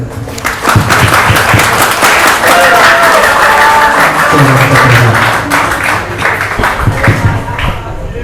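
In a pesantren classroom, students and onlookers clap after an oral exam reading classical Islamic texts, a loud, uneven patter of hands mixed with murmuring voices and some talk running throughout.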